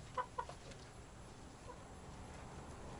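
Young farm hens give two quick, faint clucks at the start, then only quiet barnyard background remains.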